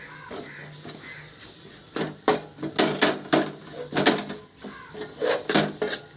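A spoon stirs chili and pepper powder in a pan for a Kerala fish curry, giving a run of scraping and clinking strokes that grow louder and more rhythmic in clustered bursts.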